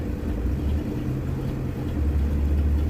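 The carbureted engine of a 1981 Ford Mustang idles cold with no high-idle feature. It gives a steady, low, rumbling drone that runs close and constant, with no voices.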